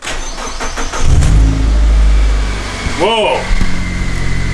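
A boosted 1.8 Mitsubishi Lancer engine cranks and fires, settling into a loud, steady close-up idle with a brief rev swell, while a voice exclaims over it.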